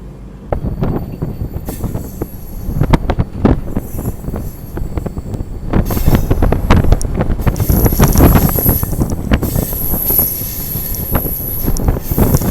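Passenger train on the Kanyakumari to Bangalore run rumbling along the rails, loud continuous clatter of wheels with rhythmic joint knocks, occasional high wheel squeal and wind buffeting the microphone, no voices.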